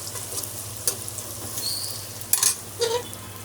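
Chopped carrots and beans frying in a pan of golden-brown onions for veg biryani: a steady close sizzle with a few scraping stirs and light clinks of a utensil.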